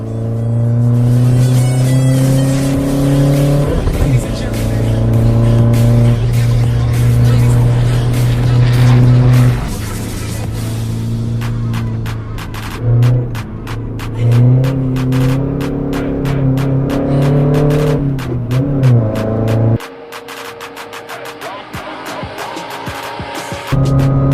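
A turbocharged Isuzu D-Max 1.9 pickup on stock suspension lapping a racetrack, loud engine droning and revving through gear changes, with tyre noise, rising pitch at speed and a brief drop near the end.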